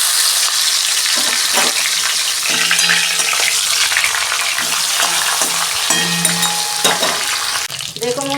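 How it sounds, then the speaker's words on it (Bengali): Fish head frying in hot oil in a wok, a steady loud sizzle throughout with occasional stirring clatter and spatula scrapes, no one speaking. "তেল গরম হয়ে গেছে, আমি মাছের মাথাটা ভেজে নেব প্রথমে।"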